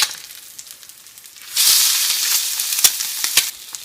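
An egg fries in a hot pan beside a lentil sauce dish, a close steady sizzle that jumps louder midway as the spatula works under it, with small crackling pops scattered through.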